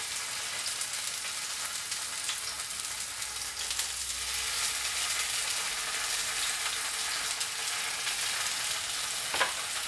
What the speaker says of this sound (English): And you should hear it sizzle.